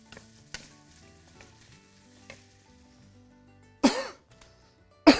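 Onions sizzle gently in a pot, a faint frying crackle beneath soft background tones, then a couple of sharp, loud coughs or throat clears break in near the end.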